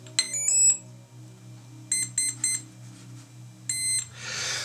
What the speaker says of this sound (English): I'm not sure if you were able to hear the three beeps from the ESC